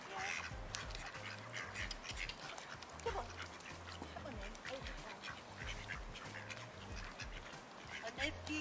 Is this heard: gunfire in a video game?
no